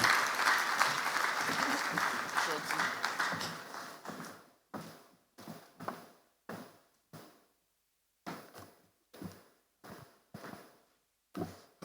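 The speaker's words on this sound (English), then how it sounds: "That round of applause can come even louder for him." Clapping for the Borno State governor at a formal Nigerian launch of social initiatives, full and loud for the first few seconds, then thinning to a few spaced, isolated claps with silent gaps between them.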